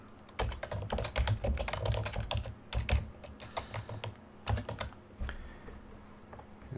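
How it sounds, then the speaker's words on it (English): Typing on a computer keyboard, a close, fast run of clicky keystrokes in uneven bursts with brief pauses, alone without speech. "I'm going to start typing."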